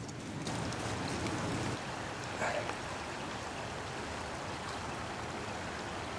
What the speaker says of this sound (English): Water is going pretty fast.